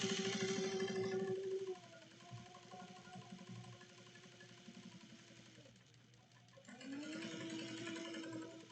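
A sewing machine stitches the seam of a drawstring bucket bag, its motor whirring steadily up close, pausing briefly in the middle before running again.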